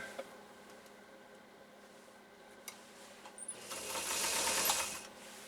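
A Singer 192K Spartan sewing machine stitches through thick leather, starting as faint mechanical ticking and clicks and then building into a louder, rapid whirring run near the end.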